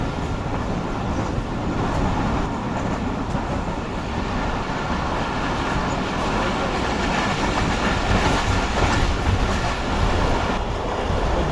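Khyber Mail passenger train running along the railway track in Pakistan, a steady loud rumble with continuous wheel clatter throughout, no voices.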